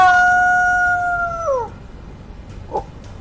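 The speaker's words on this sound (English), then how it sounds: "But have you ever heard the coyote's song?" A coyote howls in the wild: a long, clear, wavering call holds steady and then slides down and breaks off, followed by a faint short yip and quiet rustling.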